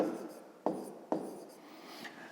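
Chalk or a pen writes a word on a board, giving a soft continuous scratching with two sharp taps as strokes begin, quiet and close, with no talking.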